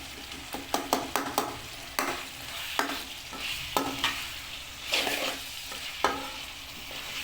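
Chopped tomatoes stirred into chicken frying in a pan: a spatula scrapes and taps the pan again and again in an uneven rhythm over a continuous close sizzle, with no voices.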